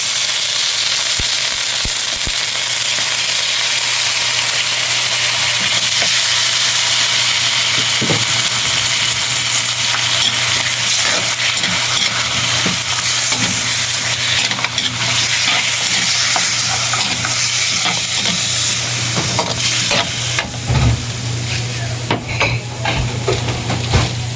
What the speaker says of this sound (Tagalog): Ating hihalo.